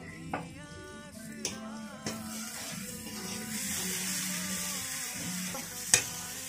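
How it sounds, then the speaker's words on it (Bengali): Kashmiri chilli powder and meat masala sizzle in a hot pan under steady hissing, with a spoon scraping and tapping against the pan every so often. "মশলাটা ভাজা হয়ে গেছে"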